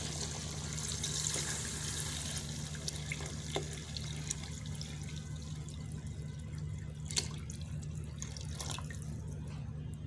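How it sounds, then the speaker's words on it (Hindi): Yakhni stock for goat trotters paya pours steadily into a pot with a faint, continuous watery trickle, broken by a few small splashes and clinks. "तो अब हमारी इसमें जा रही है यखनी"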